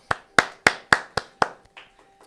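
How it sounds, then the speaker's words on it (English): A handful of hand claps rings out after a performance, six sharp evenly spaced claps followed by a few softer trailing ones, close and dry with no voices. "Round of applause."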